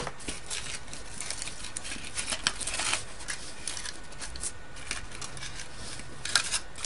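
Scissors trim a piece of aluminum foil in a craft project, giving faint, irregular snips and crinkly rustles close by over a steady background hiss, with no talking.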